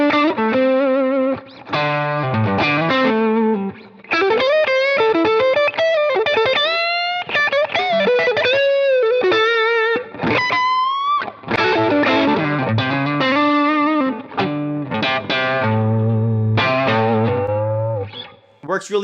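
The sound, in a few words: electric guitar with overdrive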